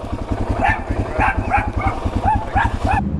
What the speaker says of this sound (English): Some dogs showed up. Working with some dogs.